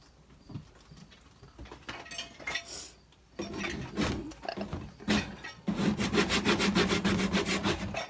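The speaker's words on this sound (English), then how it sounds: "for the little nasties that are on the cage, I just scrape." A dollar-store scraper scrapes dirt off a pet cage in rough, rasping strokes that grow louder and denser toward the end, close up and without talk.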